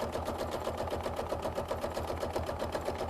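A sewing machine stitches around a quilt applique in a fast, even mechanical rhythm, close and steady throughout.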